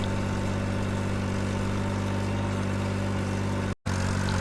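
A Fiat tractor engine running steadily while raking bahiagrass hay into windrows, a loud continuous low mechanical drone heard from the cab, broken by one very brief dropout.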